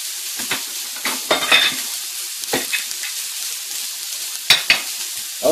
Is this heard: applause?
no